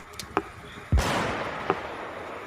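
A gunshot in a film: one sharp, loud crack followed by a short rolling decay, with a few faint clicks before and after it.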